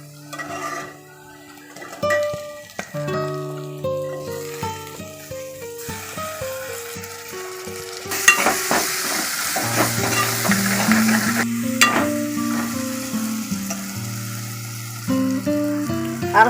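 Tomatoes go into a pan of mutton masala curry and sizzle loudly, with stirring and scraping of a utensil against the pan, the frying growing denser and more intense partway through.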